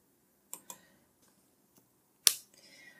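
A few sharp computer mouse clicks sound close by while editing in Premiere Pro: two quick clicks, a faint tick, then a louder click followed by a soft rustle.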